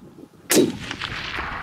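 A single loud rifle gunshot fired during a Himalayan bull tahr hunt in New Zealand's South Island mountains, with a sharp crack followed by a rolling echo that fades slowly across the terrain.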